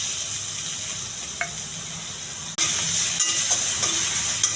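Onion and green chillies fry in a pan with a steady, close sizzling hiss that jumps louder about halfway through and stays loud, with no talking.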